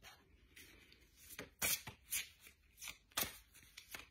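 La Voix des Anges oracle cards are shuffled by hand in short, crisp riffling bursts, several in quick succession with brief pauses between them. Close and fairly quiet, with no talk.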